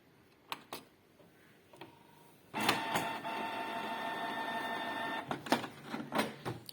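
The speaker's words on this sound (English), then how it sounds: "I am powering the printer" A Canon G3060 inkjet printer powers on with a couple of clicks, then a steady mechanical whir and hum, followed by further ticks and clunks as its mechanism moves, heard close with no talking.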